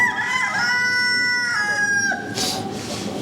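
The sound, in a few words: chabo rooster crowing at poultry show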